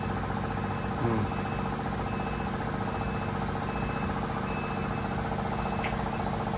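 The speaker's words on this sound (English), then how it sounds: "It's slow, but it's 4 motors working all at the same time." A steady mechanical hum from four electric motors raising a camper topper on a Ford F-150 Lightning, constant and unchanging throughout, with no voices.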